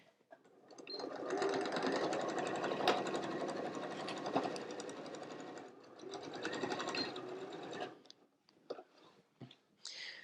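A home sewing machine stitches a 1/4-inch seam on a fabric pouch in two close, steady bursts of rapid needle chatter separated by a short slowdown. Quieter clicks and handling noises follow once it stops.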